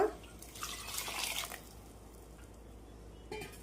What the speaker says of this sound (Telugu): ఇప్పుడు దీంట్లోకి నీళ్ళు వేసుకుందాం